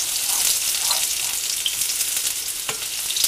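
Finely minced garlic from four cloves fries in a pan with a bright, continuous sizzle close up, steady and fairly loud, with a faint stir or clink partway through and no voices.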